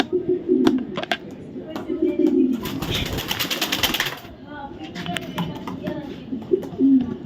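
A female black checker racing pigeon coos in low bursts, joined by other birds and a brief rush of noise midway, while people talk nearby.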